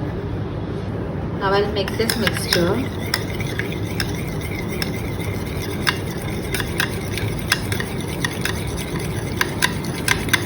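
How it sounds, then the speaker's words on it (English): Homemade rice cream is mixed with thick oil in a bowl, producing wet squishing and stirring strokes with light clinks of a utensil against the bowl, close and continuous, with brief talk near the start. "So now I added this oil. Now I'll mix this mixture."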